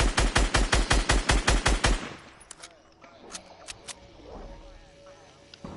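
Rapid automatic gunfire in Fortnite, a loud burst of about a dozen evenly spaced shots over two seconds, followed by a few scattered sharp shots and clicks at lower level.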